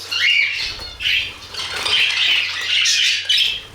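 Budgerigars splash and flutter as they bathe in water, with bursts of wet fluttering and rustling close by and short squawks mixed in.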